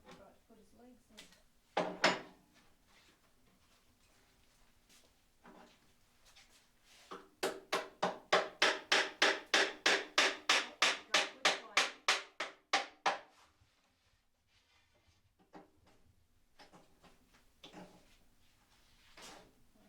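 A run of about twenty rapid, evenly spaced hammer blows rings out close by, preceded by a few isolated knocks and followed by quieter tapping.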